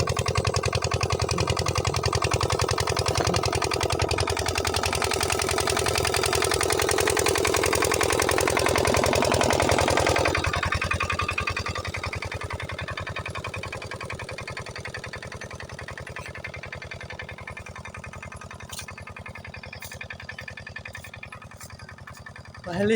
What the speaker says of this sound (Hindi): इधर इंजन है यार,